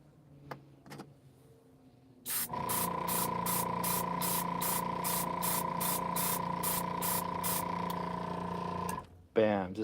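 An airbrush sprays paint onto a Gundam model, a steady close hiss lasting several seconds with a rapid pulsing chatter, starting abruptly and cutting off sharply, with faint knocks before it.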